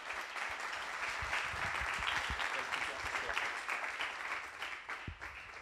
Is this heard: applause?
yes